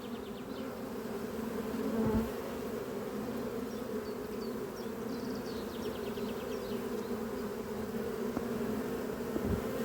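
A dense, steady hum of many honeybees buzzing around a hive, continuous and close, with no voices.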